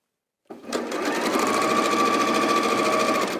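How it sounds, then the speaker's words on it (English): A sewing machine stitches quilt block pieces together for a welcome quilt, a steady close whirring run that starts abruptly and continues unbroken to the end, with no talking. "So I've now sewn those together there"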